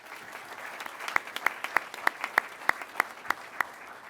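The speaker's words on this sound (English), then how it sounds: "Can we give him one more round of applause, please?" Small audience applauding an airman at a pilot training graduation ceremony, a light patter punctuated by sharp, evenly spaced claps close by, steady for several seconds.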